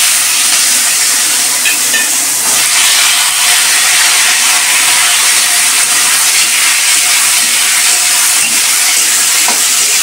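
Cumin seeds fry in hot oil in a pan, giving a steady, loud, dense sizzle and hiss throughout with occasional faint stirring scrapes and no talking.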